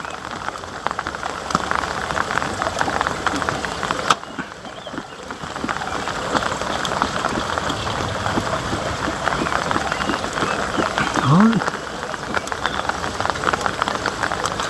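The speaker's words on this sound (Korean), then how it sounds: "오늘 조금 비 오니까 괜찮네요" Monsoon-season rain falls steadily on surfaces outdoors, a dense continuous patter of drops with a brief lull partway through, alone without voices.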